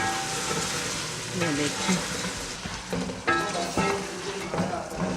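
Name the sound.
fried quail being cooked in a pan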